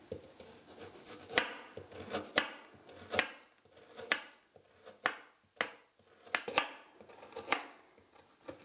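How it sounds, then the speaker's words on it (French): Carrots are sliced thinly with a knife on a board, giving a close series of about a dozen crisp, evenly paced chops with short gaps between them and no voices. "Nous allons les trancher, les découper en tranches assez minces pour en faciliter la cuisson."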